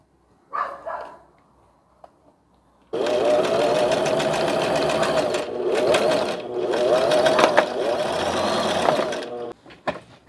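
A sewing machine stitches a Christmas dish towel in two long, loud runs of rapid mechanical whirring, separated by a brief pause. A few faint handling knocks come before it starts.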